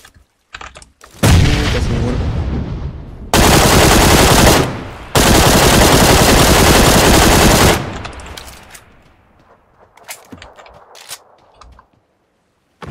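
Heavy gunfire in the shooter PUBG Lite comes as loud, sustained bursts of automatic fire in two long stretches with a short gap between them. Scattered fainter shots and quiet pauses follow.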